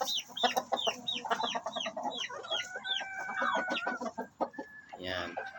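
Chickens cluck steadily in a busy, overlapping chatter close by, with a few drawn-out calls near the end.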